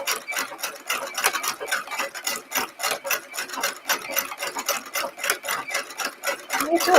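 A sewing machine stitches lengths of piping in a fast, steady run of close mechanical pulses, loud and near, with no voices over it.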